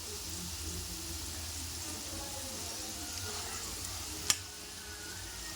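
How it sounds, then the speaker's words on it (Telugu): Sprouted gram frying in a pan, a steady soft sizzle with light stirring throughout, plus one brief sharp clink near the end. "ఈ విధంగా మనం మొలకలన్నీ ఫ్రై చేసుకోవాలండి."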